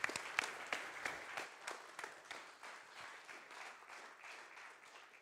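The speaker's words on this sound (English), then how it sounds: "give him an applause" Applause from a meetup audience for a presenter at an AWS user group, starting with sharp, distinct claps that soften into quieter, scattered clapping; fairly faint and a little distant.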